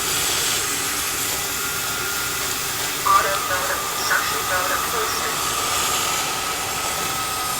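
Tineco Carpet One Spot cleaner sucking up water from fabric, a steady loud hissing suction with brief gurgling slurps, running under a voice talking.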